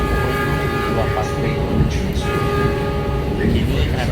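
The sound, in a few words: Argo Sindoro night train running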